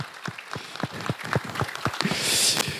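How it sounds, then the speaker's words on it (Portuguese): A small audience gives a brief, sparse round of clapping for seminarians at a book launch, with distinct, spaced individual claps that thicken slightly toward the end. "uma salva de palmas para eles, lá dos primeiros anos"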